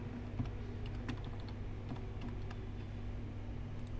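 A password is entered on a computer keyboard as quick, light key clicks in an irregular patter, faint against a steady background hum with no talking.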